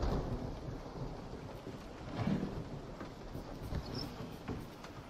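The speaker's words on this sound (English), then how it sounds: "It's raining?" Steady rain hiss with low rumbling thunder rolling underneath, continuous and moderately loud, no voices, in the horror video game Resident Evil.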